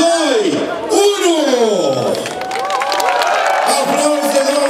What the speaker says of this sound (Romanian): Aplauze, doamnelor și domnilor!